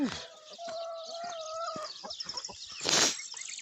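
Chickens cluck and squawk close by in short bursts, with a sharp flutter of wings near the end.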